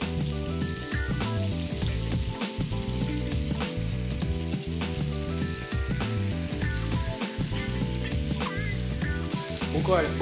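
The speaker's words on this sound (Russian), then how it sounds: "Буквально 2 минуты мы обжарили стейки" Flour-and-paprika-breaded kingklip steaks sizzle and crackle steadily in olive oil in a hot pan, with occasional clinks and stirring sounds, close and continuous with no voices.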